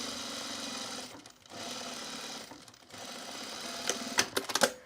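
Sewing machine stitching a curve on a pair of jeans, a close steady rapid chatter in three runs with brief pauses, ending in a few louder clacks and taps.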